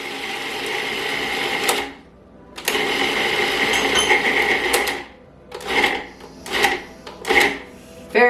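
A food processor grinds pesto, starting with two long, loud whirring runs and then switching to several short pulsed bursts with brief gaps between them, with no talk.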